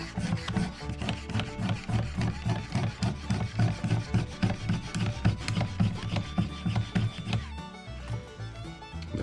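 A knife drawn in repeated straight down strokes along a leather strop loaded with polishing compound on a Work Sharp sharpener, an even, rhythmic rubbing swish close up, with no talking.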